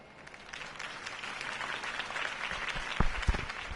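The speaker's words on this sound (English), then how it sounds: "could have heard that applause" A crowd applauds after a city campaign speech, steady clapping that swells slightly and carries on for several seconds, with a few louder claps near the end.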